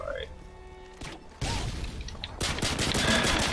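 Gunfire in Modern Warfare 2 comes as bursts of shots that grow louder partway through, with speech from players over the shooting.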